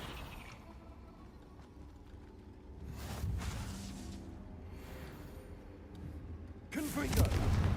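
Confringo explosive spell blasts cast in the video game Hogwarts Legacy, several booming bursts over a rumbling game soundscape, with a louder, brighter blast near the end.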